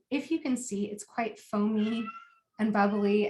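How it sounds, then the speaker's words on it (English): A house cat meows in the background, partly masked by someone talking close to the microphone in a kitchen. "excuse my cat Lois in the background"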